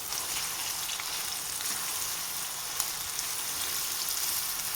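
Vegetables, meat and tomato paste fry in a pot for an orzo soup, giving a steady, close hiss and crackle of sizzling oil that runs evenly throughout with no voices.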